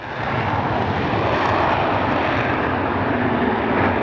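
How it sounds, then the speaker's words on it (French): Loud, steady military aircraft engine roar at a military airfield in Sion, a dense continuous rush that holds at the same level throughout. "Un avion militaire, ça continuera à faire du bruit."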